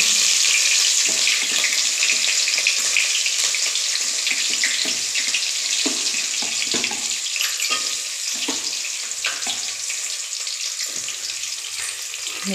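Chopped onion and green chilli frying with garam masala and spices in a pan, a loud continuous sizzle with occasional stirring clicks, easing slightly toward the end.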